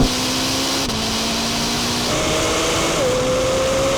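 A Ferrari SF90 and a Lamborghini Temerario race side by side in a drag race. Their loud, steady engine drone climbs in pitch and steps through gear changes.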